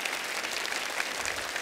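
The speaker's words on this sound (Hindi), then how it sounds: "एक बार जोरदार तालियां हो जाए रवीना जी, सुधा जी और गुनीत जी के लिए" Studio audience applause on a Hindi TV talk show, a steady dense wash of clapping sustained throughout at moderate level with no speech.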